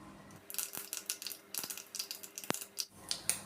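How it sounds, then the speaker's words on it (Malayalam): Mustard seeds crackle in hot oil in a pan, giving a busy run of small sharp pops and ticks at an uneven pace, close and fairly quiet, with no one talking. "കടുക് പൊട്ടി വന്നിട്ടുണ്ട്,"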